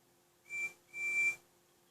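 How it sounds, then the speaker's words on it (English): Steam engine whistle on a storybook railway, with a broken-down engine on a level crossing and another engine approaching: two clear, thin, steady whistle blasts, a short one followed by a longer one, heard alone over a faint background hum. "Then Fabian heard a whistle."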